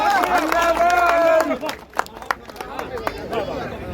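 Audience at a poetry recital breaking into scattered claps, irregular and fairly close, under and after a voice speaking, with crowd chatter around it.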